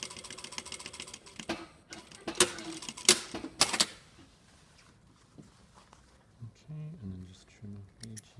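A sewing machine stitches a shirt cuff in short rattling bursts, close up, then gives way to quieter clicks and handling sounds while a voice talks over part of it.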